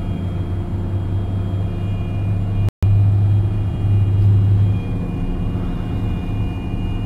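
A loaded 102k semi truck with an automatic transmission rolls down a 6% winter grade off the brake, giving a steady low engine drone and road rumble inside the cab, broken by one short dropout.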